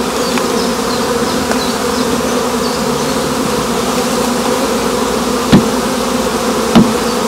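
Honeybees from an overwintered swarm buzz steadily and densely throughout as the colony is transferred between hives, with a couple of soft knocks of wooden frames.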